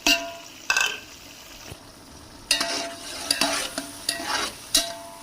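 Tomatoes being stirred and fried with spiced chickpea rice masala: a spoon scrapes the pan in several irregular strokes over a low, steady sizzle.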